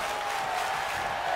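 A wrestling audience in an arena applauds in a steady, dense wash of clapping and crowd noise, with no gaps and no one speaking.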